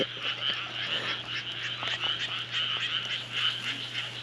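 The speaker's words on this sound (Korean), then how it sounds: "갑자기 개구리 뭐야, 이거" Frogs croak in a dense, continuous chorus at a campsite in Hongcheon, loud and close with rapid repeated calls layered over a steady low hum, no talking.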